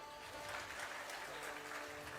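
An audience at a Bageshwar Dham stage gathering claps in sustained applause, a dense, even wash of many hands that holds steady for the whole stretch.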